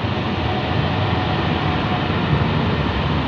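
Heavy airliner taking off at night at Chicago O'Hare, a loud, dense and steady jet roar filling the whole clip with no voices over it.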